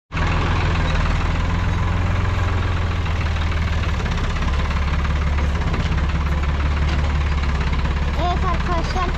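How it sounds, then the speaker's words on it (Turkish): A Hattat 4x4 tractor engine rumbles steadily and loudly throughout on a steep off-road track, with a deep low drone and faint rattling vibration. "traktör geçemediği için geri geliyorum"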